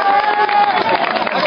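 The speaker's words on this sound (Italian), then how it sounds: "Un applauso alle donne del comitato Festa." Crowd at a Sant'Antonio festival in Agerola applauding the women of the festival committee, a brief, dense burst of clapping mixed with cheering and crowd voices.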